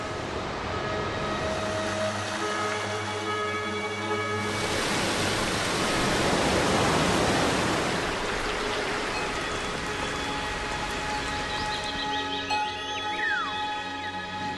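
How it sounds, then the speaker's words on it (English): Waterfalls of the Gran Sabana in Venezuela rush down as a steady broad roar of water, swelling in the middle, with faint tonal hums and a few high chirps near the end. "This is the origin of the rain, which rushes down in countless waterfalls."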